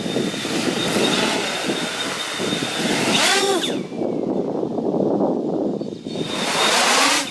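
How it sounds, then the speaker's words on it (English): An iFlight X-Class 8S FPV drone makes a loud, buzzing full-throttle pass, its whine sweeping in pitch as it flies by, then surging again toward the end. "That was full throttle there."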